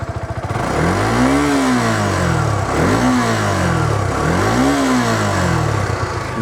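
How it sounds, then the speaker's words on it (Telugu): A Suzuki Gixxer SF 250 Flex Fuel motorcycle's dual-port exhaust, close and loud, revved three times in a steady rise-and-fall rhythm over a constant engine rumble, without speech. "ఓకే, బండి స్టార్ట్ చేసుకున్నాం కాబట్టి ఇప్పుడు ఒకసారి ఎగ్జాస్ట్ నోట్ అనేది నేను ఇచ్చేస్తాను మీకు."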